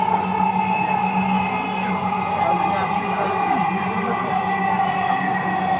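A Dhaka metro train bound for Uttara North runs with a steady rumble and whine, a constant mechanical drone inside the carriage with faint voices in the background.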